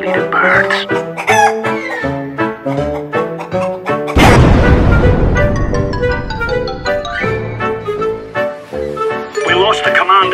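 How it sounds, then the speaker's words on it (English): Chickens cluck and crow repeatedly in CS:GO, clear, close bird calls mixed with game sounds and a loud blast partway through, with a voice talking over them. "I hate these chickens,"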